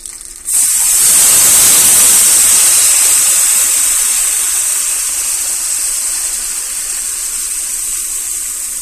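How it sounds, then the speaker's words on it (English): Water poured into a hot pan of meat for brown gravy, a loud sudden sizzling hiss that erupts at once and then holds steady, slowly easing off as it settles. "Adding my water."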